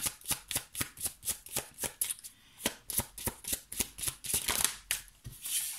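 Tarot cards shuffled by hand in quick rhythmic riffle bursts, about two per second, crisp and close but quiet, with no talk.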